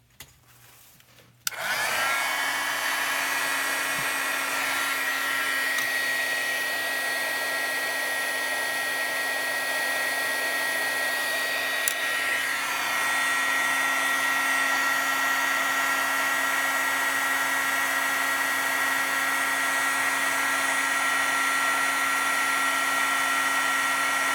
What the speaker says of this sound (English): grab our heat tool